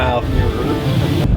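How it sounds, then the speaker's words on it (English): Strong wind gusts buffet the microphone outdoors at a daylily garden, a steady broadband roar with low rumble lasting throughout, loud and close. "I wish it wasn't so windy"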